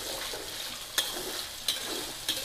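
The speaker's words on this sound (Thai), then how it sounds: "การจะทอดให้หมูมันมีสีเหลืองๆสักหน่อยนึงนะคะ" Pork frying and being stirred in a pan for a garlic pork and egg stir-fry, a steady sizzle with three sharp scrapes or stirs spaced about a second apart.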